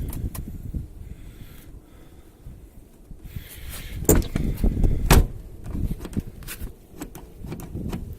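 Rear door of a Jeep XJ, converted from electric to manual, opened and locked: a few sharp latch clunks and clicks over quiet background, close by.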